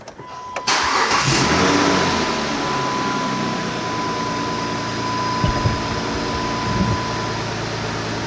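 A Chrysler 300 2.7 engine with a misfire cranks and catches with a sharp burst, then settles into a steady, fairly loud idle hum with a faint high whine.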